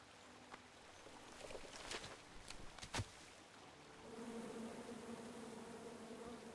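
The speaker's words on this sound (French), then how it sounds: "t'as abattu l'arbre plein d'abeilles en colère?" Angry bees swarm in the King's Quest video game, a soft insect-like buzz running under faint game sounds with a few sharp clicks midway, the drone thickening and steadying toward the end.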